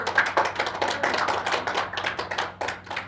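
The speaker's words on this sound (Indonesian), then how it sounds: "Beri aplaus dulu untuk kelompok 1." A classroom group gives a short burst of applause for the first team, with many hands clapping together at close range for about three seconds.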